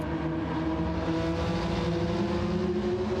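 Race car engines in the Gran Turismo 7 video game hold a steady, continuous droning hum with a sustained tonal whine, loud and unbroken with no talking.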